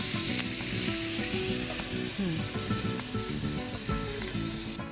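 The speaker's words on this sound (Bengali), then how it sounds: "এইভাবে আমরা বাদামি করে ভেজে নিই" Chicken ring kebabs fry slowly in oil on low heat, giving a continuous close sizzle with small crackles, and no talk.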